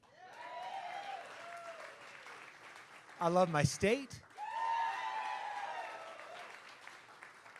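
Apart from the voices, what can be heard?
rally crowd applauding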